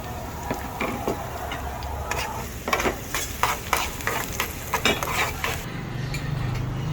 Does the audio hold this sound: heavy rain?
no